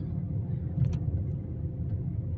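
A car drives along the road on the way to work, a steady low engine and tyre rumble filling the cabin without a break, with a faint brief click partway through.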